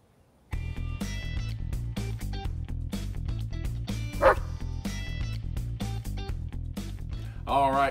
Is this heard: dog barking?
yes